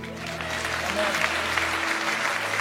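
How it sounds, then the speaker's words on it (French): A church congregation claps together in sustained, even applause during a French-language service, a dense crowd of hands filling the room with voices faintly mixed in. "Applaudissez pour la parole."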